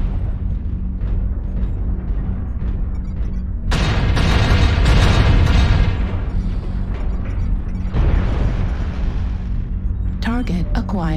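Artillery strike explosions in the MechWarrior video game, heavy booming blasts that swell loudly for a couple of seconds amid ongoing mech machinery rumble, with a voice talking over much of it.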